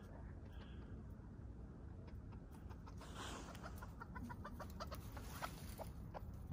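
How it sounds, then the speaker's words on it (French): Chickens cluck softly nearby in scattered, irregular bursts over a low outdoor background hum. "on a notre beau coq"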